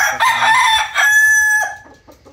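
A McLean x Miner gamefowl rooster crows loudly nearby, one long drawn-out call that trails off, followed by a few soft clucks.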